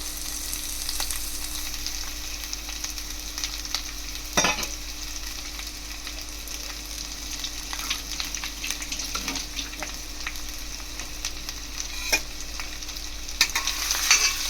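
Potato vegetable sautéing in a pan, a steady close-up sizzle with occasional clinks and scrapes of a spoon stirring, continuous and fairly loud with no talking.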